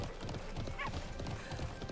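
A horse's hooves clip-clop quickly and evenly in the online game Alicia Online, moderately loud, with a brief whinny-like tone partway through and no talking.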